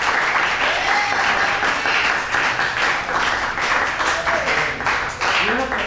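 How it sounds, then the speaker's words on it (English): Steady, dense applause from an audience at a poetry reading in a library fills the whole stretch, with a few shouts and cheers rising over the clapping. "let's give the brother a great round of applause there"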